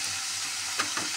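Shak bhaja, leafy greens boiled then fried in a pan, crackles with a close, even sizzle, punctuated by two quick stirring scrapes near the end.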